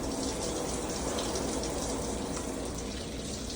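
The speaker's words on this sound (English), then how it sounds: "I will turn the water back on, still holding the sponge. I will rinse off, starting at the fingertips" Tap water runs in a continuous, even stream while hands are rinsed during a surgical scrub at a scrub sink, a steady splashing hiss with no talk.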